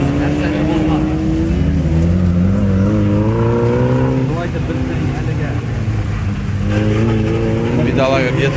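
Off-road jeep racing in a spring sprint race at Staroe Baysarovo village, its engine straining and revving with shifting pitch as if short of pull, loud and continuous with people talking over it.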